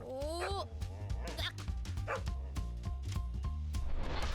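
A dog barking, yipping and whimpering inside a car, with sharp repeated barks and high whines over a steady low engine hum.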